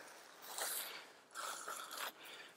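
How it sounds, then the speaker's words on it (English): Clips and buckles snap and rattle as the rain fly is unclipped from a Big Agnes Copper Spur HV UL1 bikepacking tent: two short bursts of plastic-and-fabric clicking and rustling, close and fairly quiet, with no talking. "Now we'll go ahead and unclip our rain fly."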